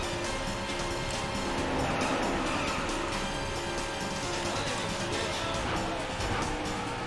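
Racing car engines roar at the race start in a racing video game, a loud, continuous, dense drone with hints of tire noise, no pauses throughout.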